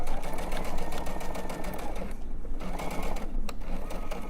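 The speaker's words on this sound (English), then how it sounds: "We'll sew it one more time." A sewing machine stitches a fabric elephant stuffed animal, its needle chattering fast and steady at close range. The run pauses briefly partway through, then the rapid stitching resumes.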